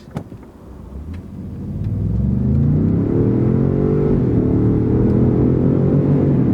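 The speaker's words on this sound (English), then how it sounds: "We'll wait till everybody's out of the way, and then we'll step on the gas." A car accelerates hard onto a highway, its engine rising from a low idle rumble into a loud, sustained climbing roar that holds steady near the microphone for several seconds, with no voices.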